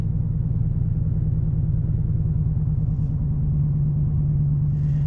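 A 2022 Dodge Challenger Hellcat idles steadily while warming up after months in storage, a deep, continuous rumbling V8 burble, loud and even with no talk over it.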